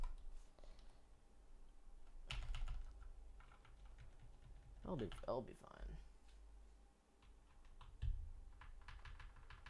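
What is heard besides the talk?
typing on custom mechanical keyboard with lubed NovelKey Cream switches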